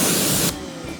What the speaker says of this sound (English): So go ahead and spray it with some pressure.